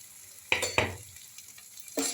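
Fried okra stirred in a pan, giving two sharp scraping strokes close by followed by a third, with a soft sizzle of oil underneath.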